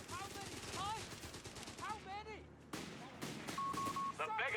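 Distant rifle and machine-gun fire crackles through a Company of Heroes 3 tournament match between Grenadiers and Royal Engineers, the rattling bursts mixed with whistling shells and game effects under constant commentary talk.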